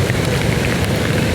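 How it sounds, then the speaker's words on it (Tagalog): Dense, steady rainfall during a typhoon hisses and roars continuously, a thick wash of noise close by with no talking. "Lakas ng ulan dito."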